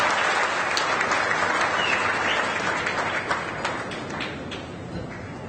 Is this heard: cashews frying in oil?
no